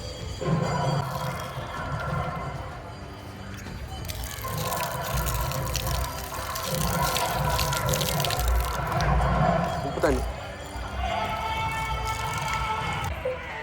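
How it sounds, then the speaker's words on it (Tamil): Water pours and splashes steadily from a tap or outdoor faucet as feet are washed before entering a Hindu temple on Nainativu island near Jaffna, with crowd murmur and occasional voices in the background throughout. "இப்போ நாங்கள் கால்களை கழுவி விட்டு கோயிலுக்குள்ளே செல்ல இருக்கிறோம்"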